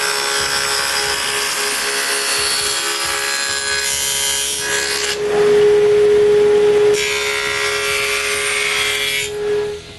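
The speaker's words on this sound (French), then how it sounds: "J'installe mon dado dans ma scie, puis je donne un angle de 11 degrés et demi. Je coupe une feuillure sur le haut et le bas des pattes." A table saw fitted with a dado blade cuts angled rabbets into wooden legs, a loud steady whine and rasp through the wood, swelling in pitch as cuts begin and end, with no talking.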